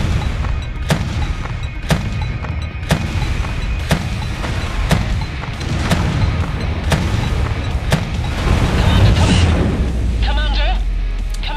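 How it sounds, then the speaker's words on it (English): A mech explodes and bursts into flames in the video game MechWarrior 5: repeated loud booming blasts at a steady rhythm, with crackling debris and a fiery roar swelling near the end. "That's the lighting up in flames explosion sound."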